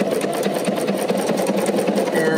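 A sewing machine runs steadily at a fast, even pace, laying a decorative stitch over several loose threads on a 9mm stitch plate, its motor hum and needle chatter loud and continuous.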